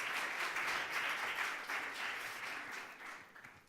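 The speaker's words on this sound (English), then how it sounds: "Another round of applause for our guests." An audience applauds guests at a tourism talk in Marbella, steady clapping from a crowd that gradually fades toward the end.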